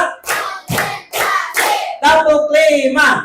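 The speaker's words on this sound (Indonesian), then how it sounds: "kita coba tepuk konsentrasi ya" A sixth-grade class claps hands in a rhythmic concentration clap during a coding lesson. Several sharp group claps land in steady rhythm, then give way to voices chanting along.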